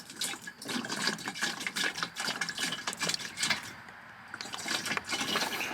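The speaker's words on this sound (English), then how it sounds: "I think I'm just gonna go ahead and add that water now" Water poured into a Corvette's coolant system, a steady rushing, gurgling fill with uneven splashy surges close by, briefly easing near the end before resuming.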